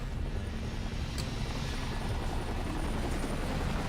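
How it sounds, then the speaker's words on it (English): Steady, loud helicopter rotor drone throughout from the video game Viewtiful Joe, a continuous whirring rumble with no talking. "now I gotta fight 2 helicopters"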